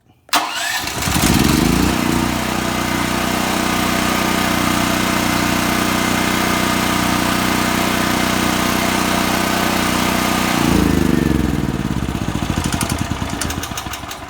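A Generac RS7000E portable generator engine, started with an electric starter, fires up quickly and then runs at a loud, steady, close-up drone, with a slight change in pitch near the end.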